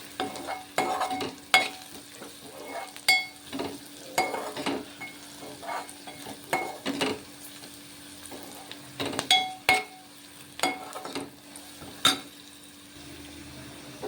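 Turmeric and spice powder stirred into fried onions for a dried fish and tomato curry, a spoon scraping the pan in repeated strokes over a steady low sizzle.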